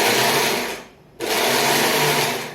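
A kitchen mixer grinder whirs loudly, grinding a fine jaggery paste for raw mango pickle and sweet-sour chutney, running steadily, cutting out for a moment, then starting again at full speed.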